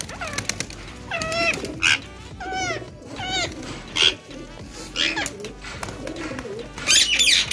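Pigeons coo outdoors at feeding time, several warbling calls rising and falling in short bursts, mixed with other bird chirps nearby.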